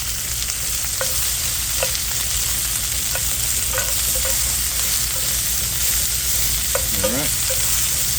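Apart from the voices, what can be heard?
onions and garlic frying and stirred in oil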